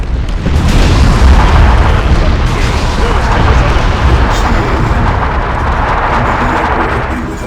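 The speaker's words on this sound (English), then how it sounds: "Thunderhawks 3 and 4, follow with bombing run." Thunderhawk gunships drop a bombing run in Warhammer 40K Dawn of War 2, a continuous heavy wall of rumbling booms and blasts, loud and close, rolling on without pause.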